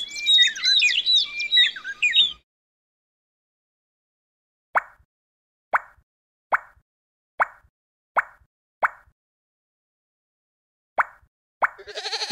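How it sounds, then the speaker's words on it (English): A bird sings a quick, warbling run of chirps, then after silence a series of short, evenly spaced plopping notes, with more chirping at the end. "birds."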